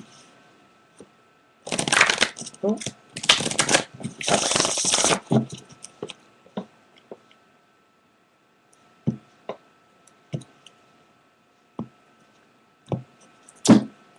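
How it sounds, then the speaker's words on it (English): Tarot cards shuffled in several loud dense bursts over the first few seconds, then scattered single taps and soft knocks as the deck is handled; a brief word is spoken. "Alright, we'll give them one more shuffle."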